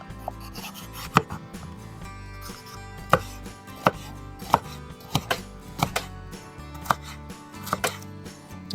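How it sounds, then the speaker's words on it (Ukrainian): A knife chops fresh, fragrant garden sweet peppers into strips on a board for a Kherson-style borscht with tench, giving a steady run of sharp, close taps with quieter scraping between strokes. "Наріжемо соломкою."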